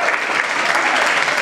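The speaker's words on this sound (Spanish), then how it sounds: "Fuerte el aplauso para él." An audience at a radio show event applauds in a dense, steady wash of clapping that stays fairly loud and even for the whole stretch.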